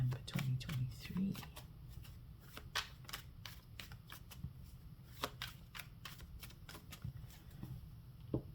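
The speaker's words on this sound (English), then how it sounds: "my cards are louder than I'm speaking right now. I'm almost done with the shuffle" Tarot cards being shuffled make a run of crisp, close riffling clicks and slaps in quick irregular bursts, with a low murmuring voice faintly underneath at the start.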